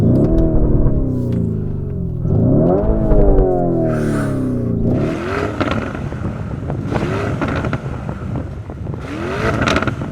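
A Lamborghini Urus engine is revved loudly up close, several sharp sweeping rises that crackle and pop as each one falls away, followed by a rumbling idle between bursts.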